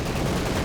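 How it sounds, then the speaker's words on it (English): Artillery barrage in Company of Heroes 2 during a 2v2 match, a short, dense burst of rumbling explosive blasts and gunfire crowding together at close range. "follow up here by a light artillery barrage going in from someone"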